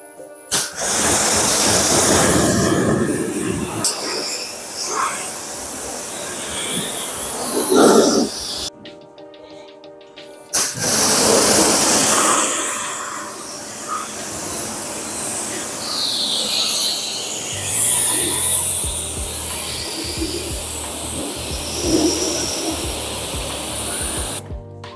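A hose sprays water over a car for a final rinse after a wash, a loud hissing spray in long bursts with a short pause, then continuing near the microphone.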